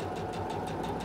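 A Singer Professional 9100 sewing machine top stitching a zipper, a steady rapid mechanical whirring with even needle chatter, close and continuous.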